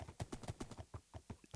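Horse hooves clip-clop in a steady, quick rhythm across a Minecraft Lord of the Rings mod desert, each hoof strike distinct and fairly close, with no talking over them.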